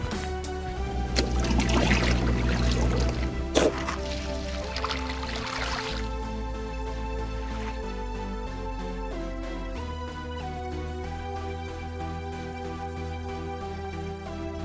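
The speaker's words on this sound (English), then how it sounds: "Okay, now we water." Water poured onto plant soil in a steady splashing trickle for a few seconds, fading out before a quieter stretch of soft room noise.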